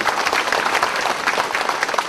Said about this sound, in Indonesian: tepuk tangan untuk Ajahn Brahm.